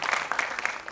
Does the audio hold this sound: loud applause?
yes